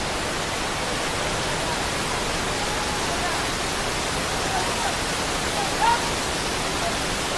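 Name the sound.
Cambugahay Falls waterfall, Siquijor, Philippines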